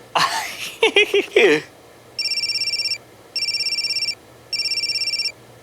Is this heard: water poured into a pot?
no